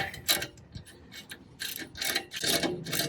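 A ratchet backs out a header bolt on a 1969 VW Bus, producing close bursts of quick clicking and scraping metal strokes in an irregular rhythm, fairly quiet with no talk.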